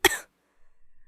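A person coughs once sharply as if choking in smoke, a short harsh burst followed by quiet, faint, choppy breathing or shuffling.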